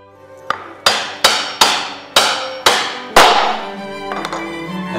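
A hammer taps a dovetail drawer joint together in a woodworking shop, with six sharp, loud, evenly spaced blows that ring briefly, the last one strongest, then a short wooden scrape. No one talks.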